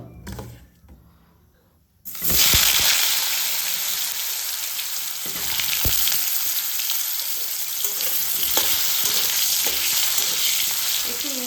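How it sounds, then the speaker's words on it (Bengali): Potatoes drop into hot oil for a spicy chicken curry, and after a quiet start a loud, dense sizzle bursts in and carries on steadily with light crackles and occasional clinks. "আলুগুলো এখন ভেজে নেব"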